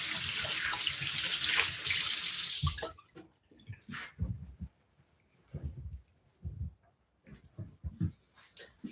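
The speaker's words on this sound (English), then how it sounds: "let me wash my hands." Running water from a sink tap as hands are washed in a home kitchen while baking a chocolate orange cake, a loud steady rush for about three seconds, then stops, followed by scattered clatter and quiet handling sounds.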